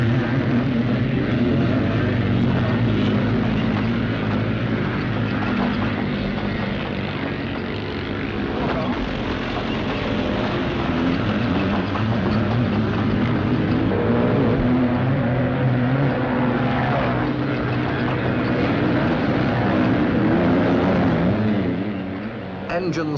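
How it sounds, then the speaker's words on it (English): Enduro motorcycles race over a rough, banked course in Britain. Their engines make a continuous loud, grinding roar for the whole stretch. A narrator talks over the din. "Engines scream as they roar up the banks."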